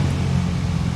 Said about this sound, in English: There's some kids running back on ATVs here